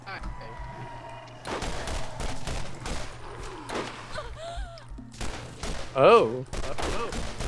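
Shotgun blasts in the Borderlands video game fired in a cooperative session, several loud bursts with game effects and music, while players talk over the action.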